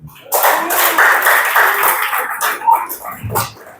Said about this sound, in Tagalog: Kaya niyo pumalakpak doon.